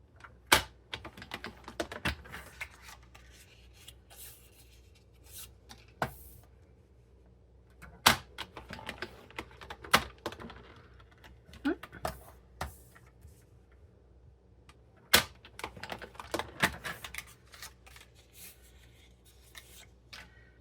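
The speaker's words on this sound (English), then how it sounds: "we are going to score at 1/2 inch on both sides on both papers" Scoring strips of cardstock at half an inch on a paper trimmer for a Stampin' Up! triangle box, with sharp intermittent clicks, taps and short scraping slides in scattered bursts, close and fairly quiet, with no talk.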